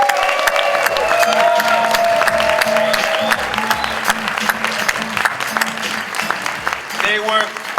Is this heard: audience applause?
yes